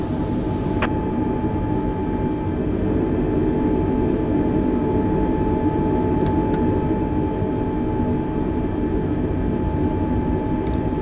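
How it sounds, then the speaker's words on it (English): An Airbus A320 taxis to the gate in Microsoft Flight Simulator 2020, its engines giving a constant, even drone with a faint high whine. A couple of tiny clicks sound briefly, with no voices. "Taxiing to gate 20 using taxiway Alpha 9er November Golf Airbus 320"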